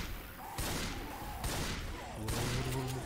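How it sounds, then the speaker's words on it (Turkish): Rapid bursts of gunfire from a Left 4 Dead 2 match, in three dense volleys close up that fill the short stretch with little pause between them. "Keep shooting."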